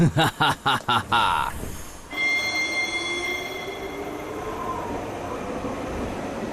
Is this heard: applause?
no